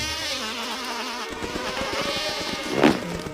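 A bee buzzes among forest flowers, a thin insect drone running steadily through the clip and swelling briefly louder near the end as it passes close.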